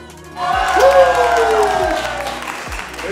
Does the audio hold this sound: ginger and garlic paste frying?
no